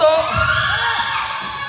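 A lively crowd cheers and shouts without pause at a youth interlodge basketball game between the Hawks and Palos Verdes, a dense wash of voices at steady volume.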